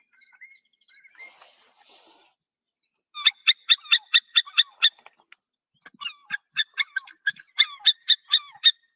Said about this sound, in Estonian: Tema oli merikotka hääl.